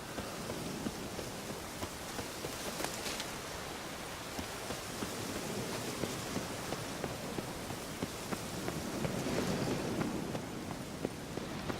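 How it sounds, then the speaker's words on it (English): Rainfall in The Witcher 3: Hearts of Stone on PC, a steady broadband hiss of falling rain with scattered droplet patters, continuous and moderately loud with no talking. "looks like rain."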